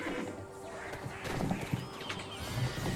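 Horse hooves in a video game, a few soft clip-clop steps at moderate distance over quiet game ambience, fairly faint and irregular.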